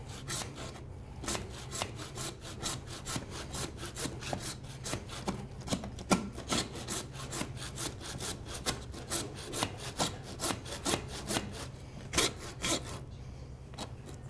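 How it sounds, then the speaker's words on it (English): A hand saw rasps back and forth in a steady, repeated rhythm, cutting through hard beef bone while butchering a cow forequarter, close and fairly quiet. "More questions while I'm sawing through this."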